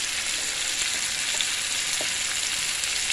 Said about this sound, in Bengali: একটু কষিয়ে নিই, তারপরে বাঁধাকপিটা ছাড়বো।